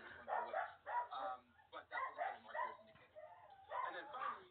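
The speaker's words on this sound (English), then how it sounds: "Those dogs need to shut up." Dogs bark in short repeated bursts that sound muffled and somewhat distant, with a few yips mixed in, while a person talks quietly between them.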